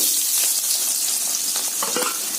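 Onions frying in hot oil with fenugreek seeds for a village-style dry fish gravy, a loud continuous close sizzle with faint stirring scrapes and no talk.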